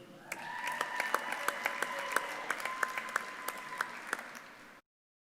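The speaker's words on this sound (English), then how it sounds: "How about another round of applause for our graduates?" A crowd at a graduation commencement applauds the graduates, steady, fairly distant clapping with a few sharper individual claps standing out, ending abruptly.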